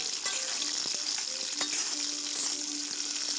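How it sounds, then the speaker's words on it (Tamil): Amla (Indian gooseberries) frying in oil over high heat with neem leaves for a Tamil pickle, a steady close sizzle with occasional stirring clicks and faint tonal squeaks running throughout. "ஹை ஃப்ளேம்லேயே நல்லா ஃப்ரை பண்ணிக்கலாங்க."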